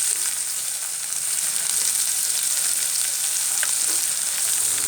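Ground spices frying in a pan for tomato chutney, including turmeric, give a steady, close, dense sizzle that holds level throughout with no talking.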